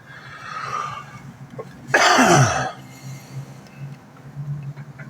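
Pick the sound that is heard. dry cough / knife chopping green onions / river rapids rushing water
dry cough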